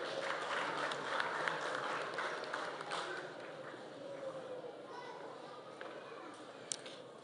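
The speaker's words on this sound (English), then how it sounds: "Let us appreciate them," An audience applauds graduates receiving diplomas at a Kenya Institute of Development Studies award ceremony, a steady wash of clapping from a large crowd that fades gradually.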